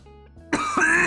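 A single sharp cough from a man reading a sheriff's report, close and fairly loud, preceded by quieter background tones and followed by a second rasping burst.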